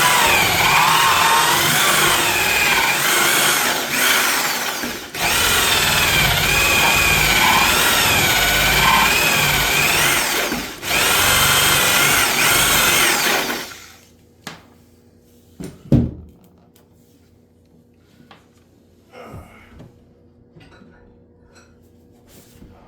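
A power drill with a dull bit grinds loudly and steadily for about fourteen seconds, with two brief pauses, while installing a kitchen HVAC duct vent register box, then stops, leaving faint scattered knocks.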